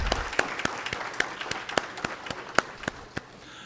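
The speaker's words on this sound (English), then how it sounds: "Let's give one last round of applause for our culinary students for the excellent breakfast." A breakfast audience claps for the culinary students who cooked for them. The claps are sparse and separate, a handful of distinct slaps spread over a few seconds at moderate distance, not a full ovation.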